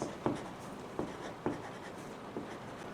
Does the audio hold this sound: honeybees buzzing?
no